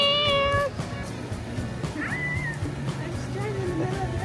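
A pet cat meows clearly several times, a sharp cry at the start followed by softer rising meows, close by over background household noise.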